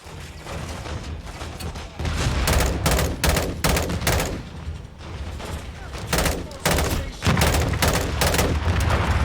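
Rapid gunfire in Modern Warfare 2 rattles close and loud, with bursts of rifle shots in quick succession over rumbling battle noise, pausing briefly before resuming; a voice speaks during the shooting.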